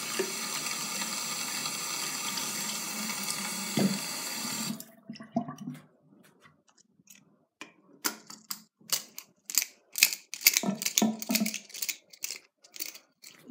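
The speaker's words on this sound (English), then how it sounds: "I'm going to empty out the bad old water and I'm going to give him some fresh cold water" Tap water runs steadily from a faucet to refill a hamster's water bottle, then cuts off and gives way to a series of sharp plastic clicks and knocks as the bottle is handled.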